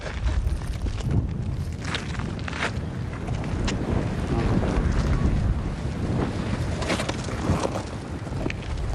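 Strong gusting wind at the Erta Ale volcano crater in Ethiopia, a loud continuous rumbling roar buffeting the microphone throughout, with no other sounds standing out.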